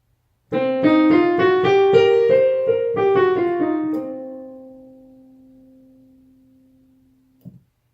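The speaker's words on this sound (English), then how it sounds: "The blues scale is based on a West African vocal scale and sounds like this." A piano runs quickly up a blues scale of single notes, then lets the final note ring and slowly fade; a soft thump follows at the end.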